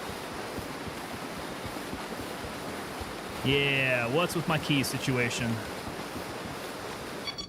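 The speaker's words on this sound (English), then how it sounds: "That water is extremely loud." Loud water and crashing waves wash steadily in the video game Gray Zone Warfare, a constant close rush that runs underneath a brief spoken line.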